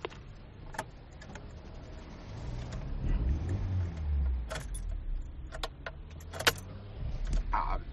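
A car fails to start as its engine turns over in a few low, labored bursts, with keys jangling and clicking close by.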